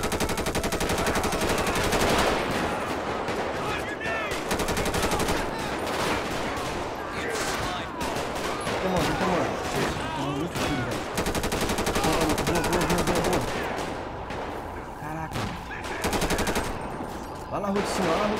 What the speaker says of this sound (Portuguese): Atirando lá na rua de cima, ó.